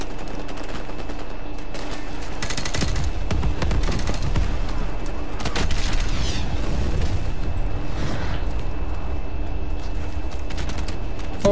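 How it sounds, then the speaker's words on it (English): Sustained machine gun fire from the video game Modern Warfare Remastered rattles on loudly alongside heavy booms and explosions in a dense, chaotic battle mix, with no talk. "that fucking machine gun though"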